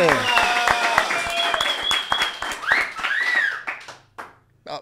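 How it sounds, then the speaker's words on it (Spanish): Applause and scattered clapping for the third episode of the podcast Acá Entre Nos, close and lively, mixed with rising whistle-like tones and a voice, tapering off into sparse claps near the end. "Un aplauso plebada"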